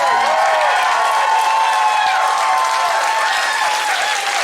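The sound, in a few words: concert audience applause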